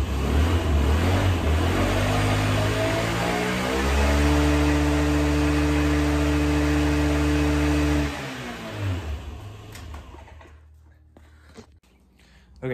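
A Honda Metropolitan scooter engine runs after a carburetor cleaning, buzzing at a steady idle, holding a higher even rev in the middle, then winding down and stopping, with quieter clatter after.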